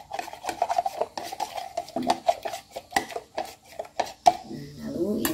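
A spoon scrapes and clinks repeatedly around a small bowl while a spoonful of cornstarch is stirred into a little water, in quick rasping strokes close to the mic.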